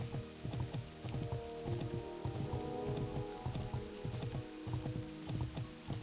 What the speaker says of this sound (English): And it's raining, which is kind of rare.